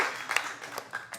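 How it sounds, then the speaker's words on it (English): Audience applause at a stand-up comedy show, a light, scattered patter of clapping from part of the crowd that rises and dips over a second or so without building to a full ovation. "Usually the whole crowd applauds for that"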